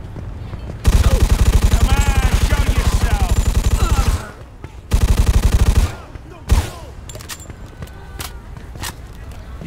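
Sustained automatic gunfire in Mafia II, a loud rapid rattling burst of about three seconds, a second shorter burst, then a single sharp shot before quieter ambience.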